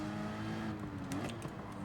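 Race car engine in Gran Turismo 7 at Barcelona during a Manufacturers Cup race, holding a steady high droning rev with a sustained harmonic whine and slight pitch wobble, continuous and close throughout.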